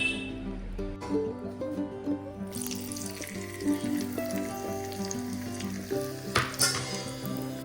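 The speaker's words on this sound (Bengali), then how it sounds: "ওই যে শুকনো লঙ্কা আর কালো জিরে দিয়ে তেল গরম করে নিয়েছি এবার এটা দিয়ে মাখবো" Hot oil with dry red chilli and black cumin sizzles steadily, with the hiss swelling after a couple of seconds and running under prominent background music.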